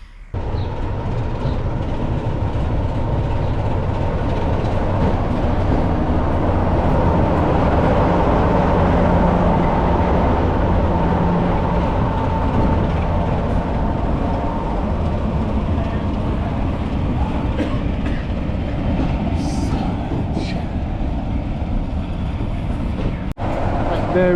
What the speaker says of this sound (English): 26007, one of the gas locomotives, which has come in behind.